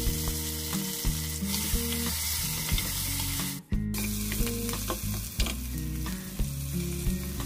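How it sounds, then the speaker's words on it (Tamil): Onions and green chillies fry in oil in a pressure cooker for prawn biryani, a continuous close sizzle broken by repeated clattering stirs against the metal pot, with no voices. "வெங்காயமும் பச்சை மிளகாவும் நல்லா பொன்னிறமாக வர அளவுக்கு வதங்கிடுச்சு"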